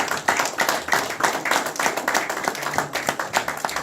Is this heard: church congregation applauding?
yes